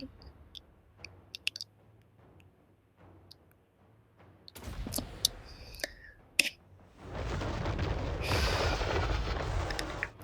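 A dragon's breath attack in Total War: Warhammer erupts as a loud, sustained roaring blast lasting several seconds, following scattered clicks and booming impacts from the battle.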